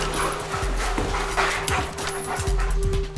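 A police tracking dog searches a house and surrounding grounds, giving a few short whimpers, yips and panting sounds over steady low background noise, with no talk.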